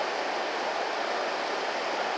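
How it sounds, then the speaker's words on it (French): A waterfall roars in the distance along a forest trail in Zahamena, Madagascar, a steady, even wash of rushing water that fills the whole stretch without a break. "Superbe cascade là au fond."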